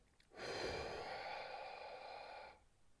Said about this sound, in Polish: Pełny wydech.